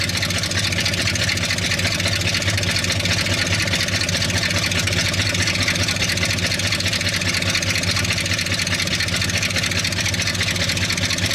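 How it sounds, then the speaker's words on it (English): A Ford Highboy truck engine idles with its exhaust baffles removed, a steady, loud, rough rumble that runs unbroken the whole time with no talking. "Okay, this is without those auger baffles. And this is at idle."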